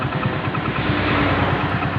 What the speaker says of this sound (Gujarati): હવે નીકળીએ તો બાઈક ચાલુ કરી નાખ્યું છે અને જઈએ